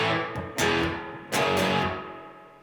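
Tight, muted power-chord electric guitar riff, played with distortion in two loud chugging bursts that ring out and decay, no voices.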